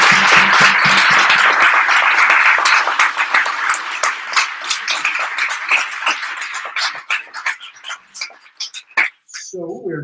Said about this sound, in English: let's give Nathaniel a round of applause.